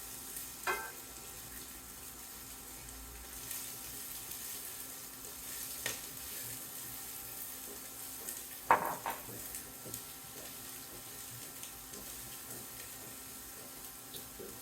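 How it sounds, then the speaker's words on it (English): Onions frying in melted butter over medium-high heat for pav bhaji, a faint continuous sizzle with occasional soft utensil knocks and one louder clatter. "So melt the butter and add your onions"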